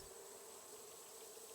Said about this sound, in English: Oh, I do get attacked by bees.